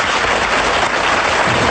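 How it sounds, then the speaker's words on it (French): Applause from a studio audience on a 1989 French television variety show, a dense, continuous wash of many hands clapping, loud and even throughout with no voices on top. "Maintenant, messieurs, on vous applaudit"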